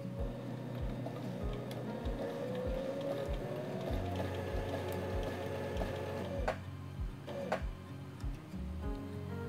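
A domestic sewing machine sews piping around a corner, driven slowly by pedal control with a balance wheel; steady, evenly spaced mechanical ticks and a low motor hum run throughout, close and moderately loud, with no talking.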